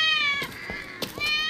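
A cat meows twice in a video game, clear, close and tonal, with a brief pause and a small click between the calls.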